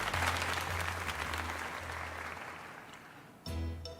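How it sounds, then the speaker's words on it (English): Applause from a live audience, a dense sustained clatter of many hands clapping that gradually fades, then a brief fresh burst near the end, with no talk over it. "Let's give another half a round of applause to Dave."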